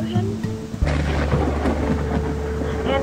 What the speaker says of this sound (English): Is it the thunder?